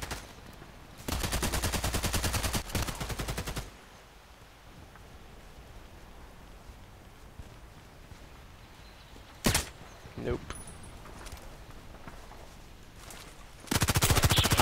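Contract Wars video game gunfire erupts in loud rapid automatic bursts, one at the start and another at the end, with a couple of sharp single shots in between over a steady background hum.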